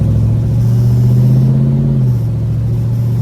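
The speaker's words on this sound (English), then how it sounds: "Very mean sounding car we got right here." A 1970 Chevrolet Chevelle SS rumbles close and loud with a deep, steady idle, and its pitch rises in one brief rev before it settles back to idle.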